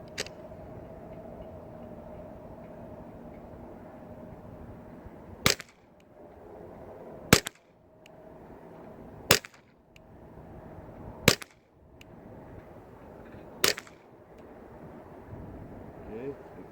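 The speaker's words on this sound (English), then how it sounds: "5 rounds, 25 yards with a muzzle brake." Ruger 10/22 rifle fitted with a muzzle brake firing five sharp shots at roughly two-second intervals outdoors, each crack loud and close over steady wind noise.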